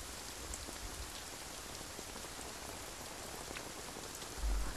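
Heavy rain pours down steadily, a dense even hiss of drops on surfaces with a low thump near the end.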